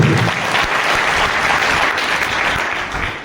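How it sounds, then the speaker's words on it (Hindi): Loud, steady applause from an audience honoring people from Bihar at a business seminar, dense clapping sustained throughout without pause. "बिहार के नाम एक जोरदार तालियां होनी चाहिए"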